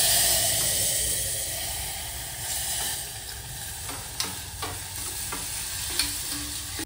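Dal frying in a pan with asafoetida and turmeric being stirred in, a steady close sizzle and hiss with occasional scraping clicks of the spoon against the pan.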